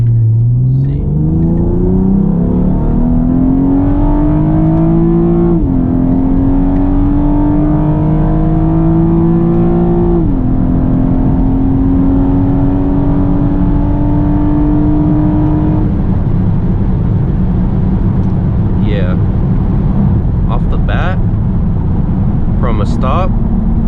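A 9th-generation Honda Accord automatic running on E85 accelerating hard from inside the cabin, engine tone rising steadily through several gear shifts, loud and continuous, with a steady road rumble underneath.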